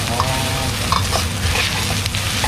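Red curry paste stir-fried in a pan for a spicy pork dish, with a loud, dense, continuous sizzle and spatula scraping that run steadily throughout.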